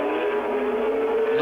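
A 500cc Grand Prix racing motorcycle at the 1987 Brazilian Grand Prix, its engine holding a loud, steady high-pitched wail as the rider powers the sliding rear end round a corner, under a commentator's voice.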